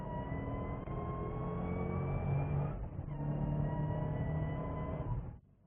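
A Shelby GT500 Super Snake engine revving hard and pulling through the gears, a steady loud mechanical whine that rises, dips briefly, then climbs again before cutting off.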